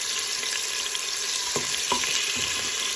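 Stew beef sizzles steadily in a pot, a constant frying hiss with a few scraping stirs near the end, close and alone without talk.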